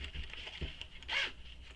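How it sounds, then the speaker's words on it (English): A zipper pull slides along a lining zipper pocket on a sewn bag, one quick close rasping zip after a few soft fabric taps, with no voices. "here's the zipper pull here and the 2 zipper pulls here, so they open and close."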